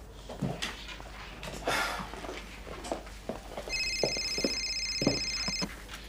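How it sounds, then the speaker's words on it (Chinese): A telephone rings in an indoor TV drama scene, a steady electronic ring lasting a couple of seconds over scattered footsteps and room noise, with no speech during the ringing. "接个电话"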